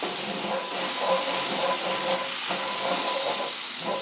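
Fresh garlic sizzles loudly in a hot pan, a steady close hiss of frying with a faint scraping of a utensil working it around.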